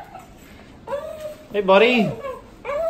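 A hairy Cavalier King Charles spaniel puppy whimpers up close in a few high, wavering whines of rising and falling pitch, interspersed with a person speaking softly to it.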